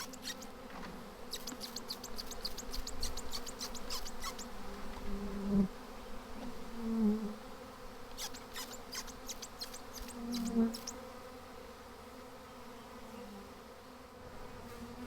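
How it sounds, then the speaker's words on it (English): A honey bee swarm, freshly shaken down from a high tree, buzzes in a steady, dense, moderately faint hum, with occasional brief scratchy rustles over the drone. "I only got about 2/3 of the bees down out of the tree"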